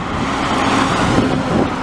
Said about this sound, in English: Look, there's a truck coming now.